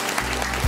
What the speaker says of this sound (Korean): 큰 박수 정말. 한번 보내주시죠